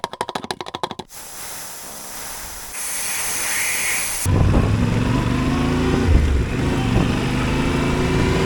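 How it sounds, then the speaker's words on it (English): Air hisses steadily out of a Yamaha Ténéré 700 adventure motorcycle tire as it is let down. A burst of quick ticking comes first, and louder rumbling road or engine noise takes over afterward. "right now I'm going to air down the tires a bit"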